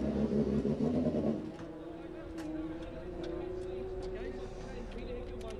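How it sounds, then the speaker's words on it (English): A TT race motorbike fires up in the pit lane during the 2018 Senior TT, a loud burst of engine noise that quickly drops to a steady, droning idle carrying on under crowd and commentary talk. "Bike started up down the pit lane, away he goes, out on there for lap three"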